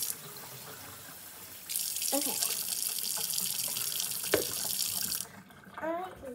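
Tap water runs steadily into a kitchen sink as strawberries are drained of rinse water, a bright continuous rush that swells louder midway and then stops, with a short spoken word near the end.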